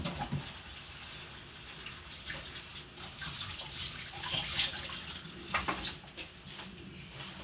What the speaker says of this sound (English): So we'll be adding hot water, pepper, and all the seasoning inside.